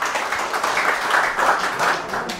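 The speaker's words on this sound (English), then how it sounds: "Can I have a round of applause for Marty Han, please?" Applause from the crowd at a Nambour community revival meeting for Marty Han, a steady wash of many hands clapping with no voices, even in level throughout.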